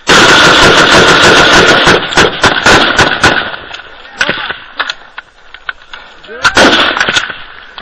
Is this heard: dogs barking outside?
no